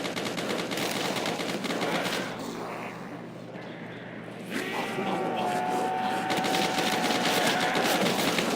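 AUG rifle fire from the Black Ops zombies video game sounds in rapid bursts with a dense, crackling texture. A short lull comes in the middle, then the firing resumes and a faint tone rises over it.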